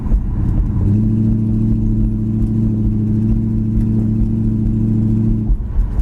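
A 1968 Plymouth Satellite's 318 V8 with a worn exhaust running: a loud, steady low droning hum that settles into an even tone after a second, then drops off near the end, with no talk.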